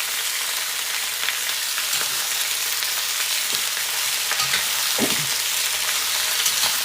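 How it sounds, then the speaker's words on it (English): Potatoes fry in a cast iron pan for a stir fry, giving a continuous close crackling sizzle with occasional soft stirring knocks, steady throughout with no talk. "we're just going to be cooking these potatoes until they do start to soften"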